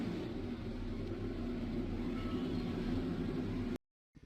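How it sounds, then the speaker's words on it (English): NASCAR K&N Pro Series race car engines start up together at the track, a dense low rumbling roar that holds steady for several seconds before cutting off abruptly. "Drivers, start your engines!"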